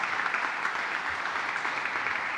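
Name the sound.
audience applause for Stephen Pryor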